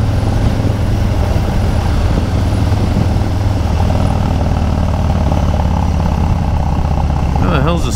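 A 2020 Harley-Davidson Low Rider S motorcycle rides at freeway speed, a loud, constant engine drone mixed with buffeting wind throughout, with a rider's voice faintly over it.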